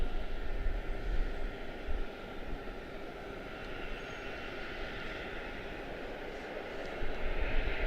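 A Spirit airliner taxiing at Charlotte airport after pushback gives a steady, distant jet-engine rumble with a faint whine, constant and alone for the whole stretch.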